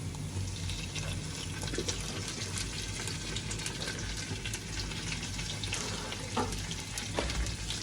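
Onions, green chillies and curry leaves sauté in a pan for chicken biryani, giving a steady, soft sizzle and crackle throughout with no talk.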